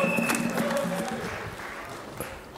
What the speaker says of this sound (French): on les applaudit, s'il vous plaît, on les applaudit